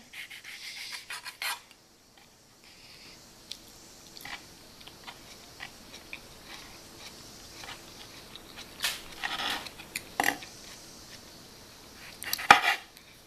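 A knife cuts an avocado into wedges for guacamole, giving soft, scattered clicks and scrapes against a board. The sounds are faint and sparse, with a few sharper taps near the end and no talking.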